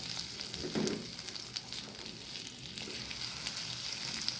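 Onions sizzle steadily in a hot pan for a salad, a continuous bright frying hiss with a brief stir or clatter near the start, no voices.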